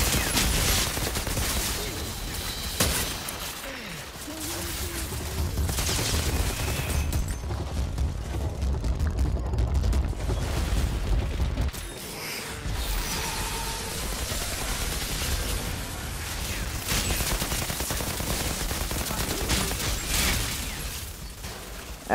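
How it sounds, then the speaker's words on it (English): Gunfire in the video game Outriders, a dense, continuous barrage of loud shots and mechanical noise that runs through the whole stretch, with brief dips in intensity. "they keep shooting me"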